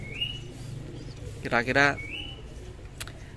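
A young homing pigeon (squab) coos in short throaty bursts over steady low background noise. A person speaks briefly nearby.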